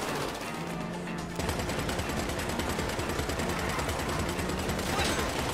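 Rapid bursts of video game gunfire rattle almost continuously during a getaway drive in a heist mission, dense and loud, with automatic weapon fire layered over engine and chaos.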